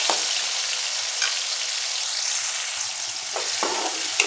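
Tomatoes and chillies sauté in a pan with a bright, steady sizzle. A few sharper stirring scrapes come late, and the sound stays close and free of talk.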